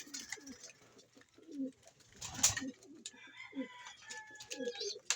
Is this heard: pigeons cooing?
yes